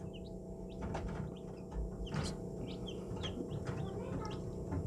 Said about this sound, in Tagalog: naibaba ko na yung ating mga sisiw galing sa hatcher